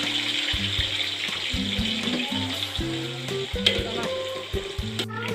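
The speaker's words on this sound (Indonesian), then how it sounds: "terus kita akan menggoreng sayurnya." Vigorous frying of vegetables in a pan crackles and hisses throughout, loud and close, with melodic background music playing over the sizzle.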